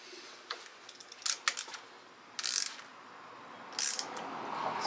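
A bolt being tightened while installing hand-guards on a 2020 Harley-Davidson Road Glide, a series of soft clicks and short ratcheting bursts, close and quiet with gaps between them.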